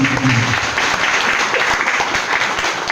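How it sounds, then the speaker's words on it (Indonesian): A school audience of parents and guests applauds the top-performing students at a secondary school gathering, the clapping steady and moderately loud, with a brief voice at the very start. "Beri tepuk tangan yang dominan."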